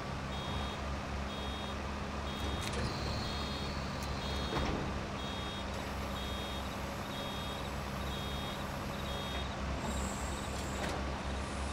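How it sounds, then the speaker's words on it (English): A steady, evenly spaced electronic beep from a hay baler in Farming Simulator 22 warns that the bale is nearly full. It repeats over a constant low rumble of farm machinery, with no voices. "the beep, I think, means it's about full."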